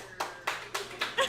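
An audience claps briefly in a show-of-hands style vote on pineapple on pizza, a few sharp, scattered claps close by in a small room, with voices faintly mixed in.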